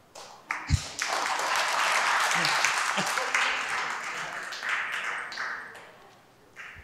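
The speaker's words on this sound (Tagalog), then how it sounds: "Alaat ang palakpak." Congregation applauding at a Holy Week church service, a few sharp claps and knocks at first, then a swell of dense clapping that holds steady before slowly fading out.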